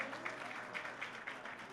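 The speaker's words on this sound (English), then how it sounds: "Applause, please. Aplausos, por favor." Faint, steady audience applause fills a hall at the IPF/NAPF North American Regional Bench Press Championships, a soft continuous patter of many hands with no clear standout claps.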